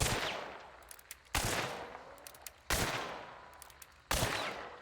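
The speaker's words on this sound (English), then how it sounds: "Without it, this pistol's hipfire would shoot like this." Four loud, evenly spaced hipfire shots from a small pistol in the game Hunt: Showdown 1896, each a sharp crack that trails off into a long fading echo before the next shot. No voices are present.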